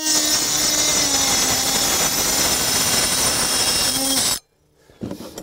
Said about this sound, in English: Plunge cutting, no issue.